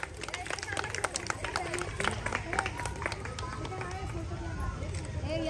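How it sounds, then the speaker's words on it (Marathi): An audience claps together at a lively comedy event held at a police station for a Haldi Kunku gathering. The clapping is dense and steady throughout, with crowd chatter and voices mixed in. "सगळ्यांनी टाळ्या वाजवा."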